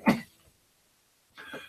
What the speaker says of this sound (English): I'm just coughing my brain out right now.